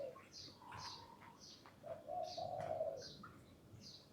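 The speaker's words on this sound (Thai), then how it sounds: "มีเสียงนก" Birds calling outdoors in the morning, with soft repeated pigeon or dove coos and scattered chirps, faint and somewhat distant over a quiet background.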